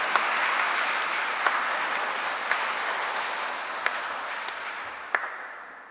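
A church congregation at a Christmas Nativity celebration claps in a sustained round, with a few sharper claps standing out before the applause thins toward the end.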